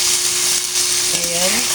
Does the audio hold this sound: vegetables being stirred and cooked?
yes